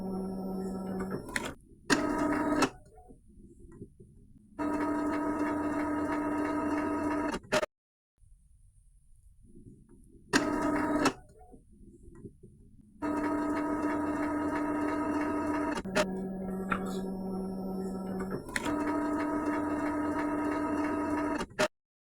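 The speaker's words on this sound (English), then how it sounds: "the printer starts making some noise" An Epson L3210 ink tank printer runs its printhead cleaning cycle, with loud sustained mechanical whirring and buzzing in long stretches, broken by sharp clunks and short silent pauses.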